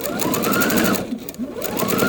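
A sewing machine runs steadily while stitching one long straight quilt seam, a close, continuous mechanical whir with a brief slowdown partway through.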